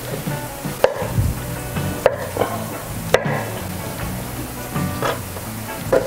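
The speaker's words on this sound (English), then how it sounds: "While my second batch of eggplant is frying" A soft continuous sizzle of eggplant frying runs throughout, punctuated by a few sharp knocks and clatters from utensils.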